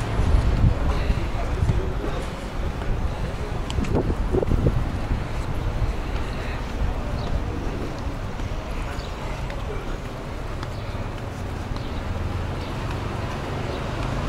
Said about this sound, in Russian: Дует ветер, не знаю, слышно вам его или нет.